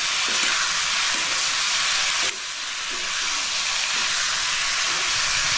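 Tomatoes cooking down in a pan for chicken kulambu, giving a loud, dense, unbroken hiss of frying that dips briefly partway through, with a few faint stirring knocks underneath and no talking.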